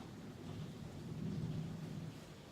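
Thunder rumbles low and steadily from a movie scene, swelling near the middle and fading, with a faint rain-like hiss on top and no voices.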